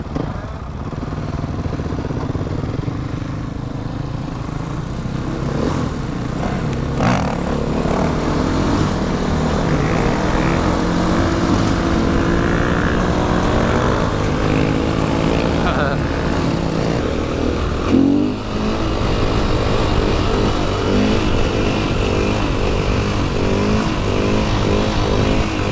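Motorcycle engine running loud and close, holding a sustained drone with shifting revs as the rider pulls a wheelie on the street, with no talk over it.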